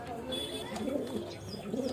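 Pigeons cooing softly nearby, a low murmuring coo repeating steadily through a short stretch with faint background hiss.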